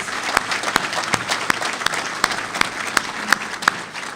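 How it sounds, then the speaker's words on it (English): Modest audience applause at an aviation industry talk, a steady patter of many hands with several sharp, distinct nearby claps standing out in a loose rhythm, fading slightly at the close. "Yes, give them a round of applause."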